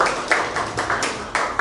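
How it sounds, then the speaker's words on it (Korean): A small group clapping in a brief burst of uneven, separate hand claps, close and moderately loud, at a running-club gathering in a Garmin store. "피니셔 클럽에게도 박수 한번 부탁드리겠습니다"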